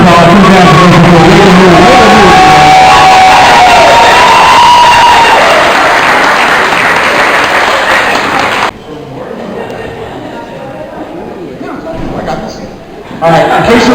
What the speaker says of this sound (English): I want to give him a big round of applause.